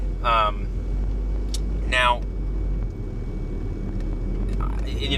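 Steady low rumble of a car interior while driving, constant engine and road drone throughout with a few brief bursts of a person's voice over it.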